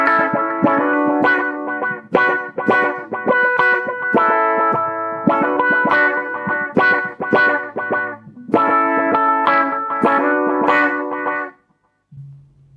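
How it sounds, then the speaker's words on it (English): Electric guitar plays a steady run of picked notes with a delay effect adding echoing repeats, ending on a lone low note. "I rolled the guitar volume down just to about 9, turned on the delay, and then we had this."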